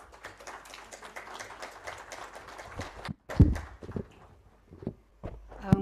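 An audience at the India Internet Governance Forum 2023 claps to welcome a speaker onto the stage, with moderate scattered applause for about three seconds that thins out as a voice starts talking.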